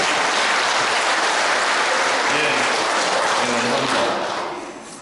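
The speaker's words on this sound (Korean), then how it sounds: "그분 빼고 박수 한번 쳐주십시오." Loud, dense applause from a church lecture audience during a Lenten special talk, sustained at full strength with faint voices mixed in, then fading away over the last second.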